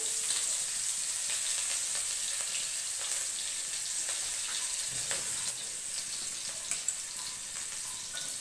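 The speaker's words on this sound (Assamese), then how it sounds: "তেল গৰম হৈছে, পিঁয়াজ দিলোঁ।" Onions fry in hot oil in a home kitchen pan, a soft, even sizzle with faint crackles that holds steady throughout, quiet and without talk.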